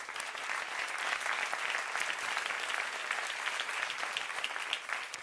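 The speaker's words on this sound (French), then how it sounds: "On peut les applaudir, s'il vous plaît." A room full of people at an awards gala applauds steadily, a dense patter of clapping that holds at an even level throughout.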